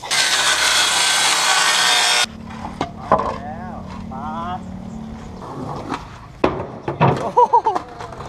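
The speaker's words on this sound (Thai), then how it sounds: "วันนี้หนักมาก ตัดไม้เลื่อยไม้" A saw rasps steadily through wood for a couple of seconds, then stops; voices and scattered knocks follow afterward.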